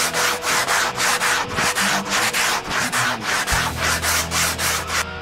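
A skimboard rail edge is sanded and shaped by hand, with steady rhythmic back-and-forth rubbing strokes, close and loud, about two per second, with no talking.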